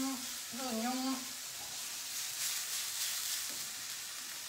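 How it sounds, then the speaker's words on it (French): Mushrooms, bacon lardons and onion sizzle in a pan, a soft continuous hiss close by. A brief voice-like tone sounds near the start. "Et de dorer un petit peu les champignons"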